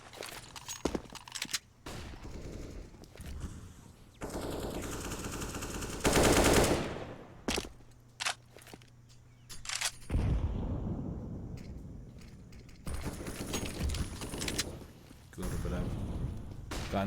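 Rapid rifle bursts and single gunshots from Counter-Strike: Global Offensive in a competitive match, loud crackling volleys separated by quieter gaps, with a commentator talking over much of it.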